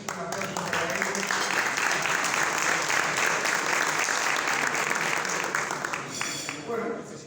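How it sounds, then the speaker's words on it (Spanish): An audience gives sustained, steady applause for two invited guests, including Emerson Fittipaldi, a dense wash of clapping that fades slightly at the end. "Así que un aplauso para ellos."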